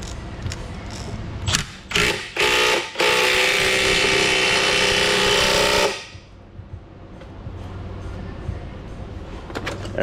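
A few short mechanical bursts lead into a loud, sustained grinding whir from a press pushing a ball joint, running for about three seconds before stopping.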